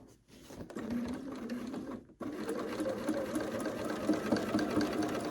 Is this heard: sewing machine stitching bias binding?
yes